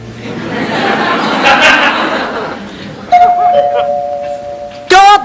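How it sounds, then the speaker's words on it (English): Amid chatter and soft laughter, a two-tone electronic doorbell chime rings, followed by another bright ring near the end. "Doorbell."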